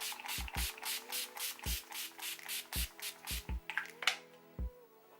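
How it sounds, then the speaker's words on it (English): Urban Decay Chill makeup setting spray is pumped onto a face in about ten quick, close, hissing spritzes, evenly spaced at first, then more irregular before stopping. "I'm just going to hit my face with some setting spray really quick"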